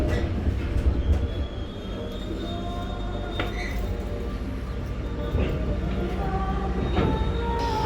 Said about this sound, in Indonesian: kereta api Kertanegara mendarat dengan sempurna di stasiun akhir